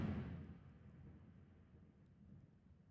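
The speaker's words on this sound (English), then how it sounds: "evidently there's a storm going on here, because that was close" A nearby storm rolls out a deep thunder rumble that starts loud and fades slowly, with a faint rain-like hiss underneath and no talking.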